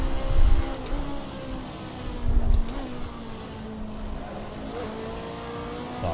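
A BMW race car engine in the iRacing sim drones steadily at high revs, with a couple of louder surges and small pitch shifts as gears change, heard close with no talking.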